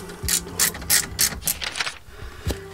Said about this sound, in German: trotzdem stößt diese Ratsche jetzt gleich hier an beim Rausschrauben